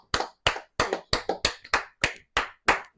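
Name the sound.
audience applause in a classroom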